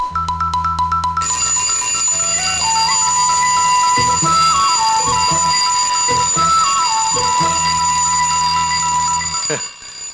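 A digital alarm rings loudly and continuously, playing a repeating electronic beeping melody with steady pulses for about ten seconds.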